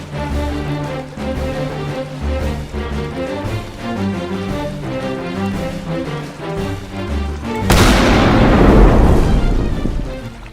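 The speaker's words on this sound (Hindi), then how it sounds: "अब मैं तोप चलाता हूँ" A cannon firing in a Hindi jungle comedy skit: a sudden loud boom bursts in partway through over a steady music track, then a long rumbling roar rolls on and slowly fades.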